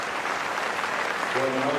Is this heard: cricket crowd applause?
yes